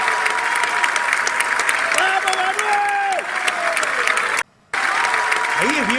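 A crowd cheers and applauds for Argentine president Milei, sustained clapping with a voice speaking over it, a brief cut to silence near the end, then applause resumes.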